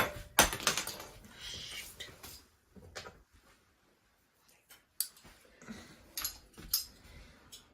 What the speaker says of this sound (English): I just dropped one of my measuring spoons